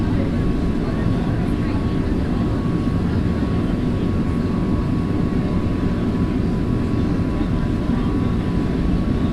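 An Airbus A330-200 engine from a flight simulator game, a loud, constant, steady roar that holds unchanged from start to finish with no other sounds on top.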